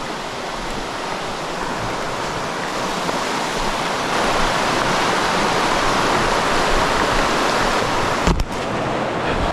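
A river rushes and churns over rocks in a continuous, loud, close roar of broadband water noise, with no voices.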